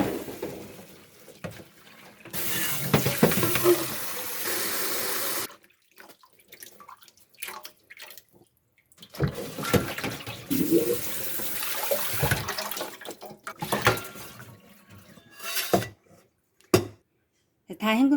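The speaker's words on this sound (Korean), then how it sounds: "이제 30초가 돼서 불을 끄고 헹궈주겠습니다." Blanched garlic scapes rinsed under a running tap, water splashing in bursts of several seconds with pauses between, close and fairly loud, with a voice speaking over parts.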